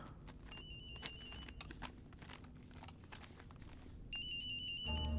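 A phone ringtone trills in two bursts, a short pause and quiet rustling between them, then rings again loudly; no one speaks.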